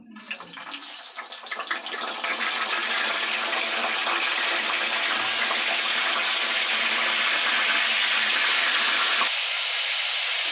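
Stuffed brinjals go into hot oil in a pan, and a loud, steady sizzle quickly builds and holds. The frying softens slightly near the end, with no voices.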